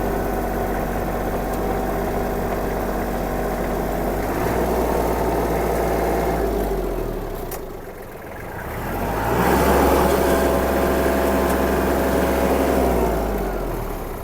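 A Kubota L1-215 Japanese mini tractor engine runs steadily nearby while the tractor turns, a continuous mechanical drone that dips briefly mid-way and then rises again in load.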